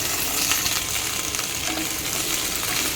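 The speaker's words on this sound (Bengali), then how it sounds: "পেঁয়াজটা এইরকম টাইপের ভাজতে হবে, একদম পুরো কড়া করে না।" Onions frying in a pan, a dense, continuous sizzle with light crackles, close and steady without talk.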